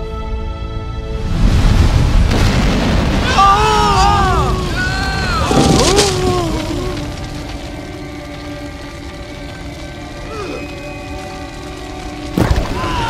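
A dramatized fire from heaven strikes: a roaring, wind-like rumble swells with booming surges and crackling, warbling tones, then settles into a sustained hiss before a final sharp crack.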